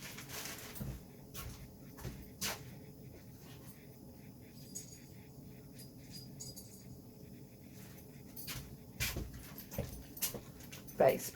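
A pet dog pants and whimpers nearby in a home kitchen, the soft breathy pants and small whines running through the whole stretch over background clatter and low household noise.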